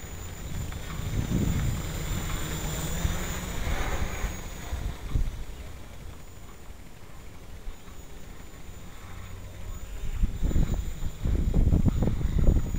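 A Gaui 330X RC helicopter flies in 15-17 mph wind, its rotor whine and engine drone continuous under heavy buffeting wind noise that swells and gusts across the recording.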